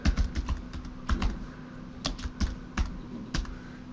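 Close, brisk typing on a computer keyboard, a quick irregular run of crisp key clicks with brief pauses between bursts, alone without talk.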